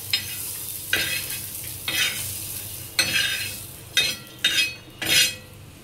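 Green chillies and garlic being roasted in a pan, a spatula stirring and scraping in about six regular strokes roughly a second apart, each with a short sizzle, close and clear with no talking.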